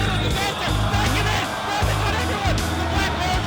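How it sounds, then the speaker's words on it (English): A large esports arena crowd at The International 2013 Dota 2 tournament cheers and yells loudly and continuously, a dense roar with whoops rising throughout. "For 5 days, the crowds cheer."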